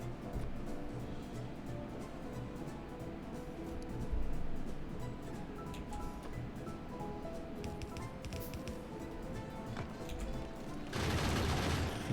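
Rapid, continuous gunfire from defensive gun turrets in Factorio keeps up a steady dense rattle with a heavier burst near the end, mixed with game effects.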